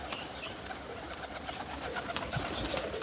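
Faint pigeon cooing sits under a steady, noisy wash of rustling and shuffling, as if inside a crowded coop.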